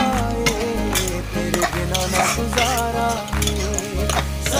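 Bathua greens frying in a pan get stirred with repeated scraping and soft clinks of a spatula under a faint sizzle, while steady background music plays throughout.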